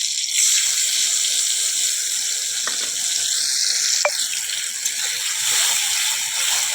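Water is poured into a hot pan of katla fish curry, giving a steady hiss and sizzle that runs loud and continuous throughout, with a couple of brief clinks near the middle.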